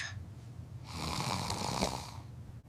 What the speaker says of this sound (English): He is snoring like a big bear.